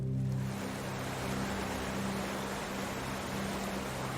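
A cartoon waterfall pours in a steady, dense roar of rushing water, loud and constant for a few seconds, with a brief low musical tone fading out at the very start.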